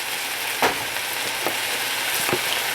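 A wok of Singapore mai fun frying over high heat gives a loud, constant sizzle, broken by a few soft scrapes of a spatula against the pan.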